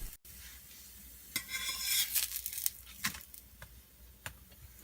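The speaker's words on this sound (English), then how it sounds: "Pan fry both sides until golden brown on a medium-high heat." Korean potato pancake pan-frying over medium-high heat, a sizzling crackle with several sharp spatula scrapes and clatters against the pan, close and without speech.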